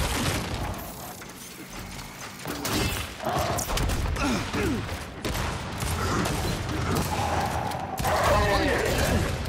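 Repeated shotgun blasts and mechanical clatter from blind firing in the video game Gears 5, loud and continuous over busy in-game combat noise, with a voice talking through it.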